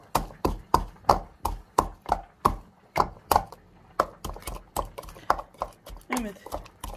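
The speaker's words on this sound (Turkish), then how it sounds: "bunları havanda döveceğim" Garlic and salt are pounded in a mortar with rhythmic, close thuds, about two per second, pausing once before resuming; a voice talks faintly underneath.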